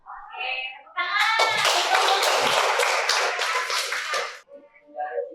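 A classroom bursts into clapping, a dense burst of many hands lasting a few seconds, with brief voices before and after.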